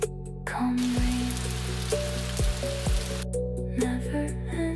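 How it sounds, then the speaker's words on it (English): Calm rain falls steadily on a Tokyo night, a soft continuous hiss of drops with a low hum underneath and a few faint tonal notes drifting through. "Calm rain"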